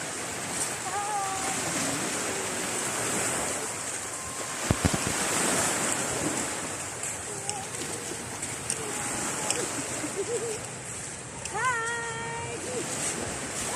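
Sea waves wash on a beach at Cabalian under steady wind buffeting the microphone, a continuous rushing surf with a voice talking over it at intervals.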